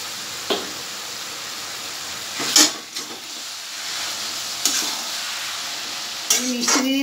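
Cabbage fries with ghee in a pan, a quiet steady sizzle broken by several short scraping clinks as it is stirred.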